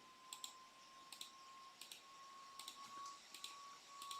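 Typing on a computer keyboard, sparse pairs and clusters of light, crisp key clicks spaced irregularly over a quiet background with a faint steady hum, soft and close.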